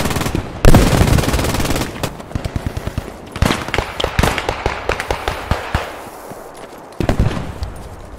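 Machine gun fire rattles in rapid, loud bursts during close-quarters combat around an old church in the World War II shooter Post Scriptum, with sharp single shots and echoing pops between the volleys.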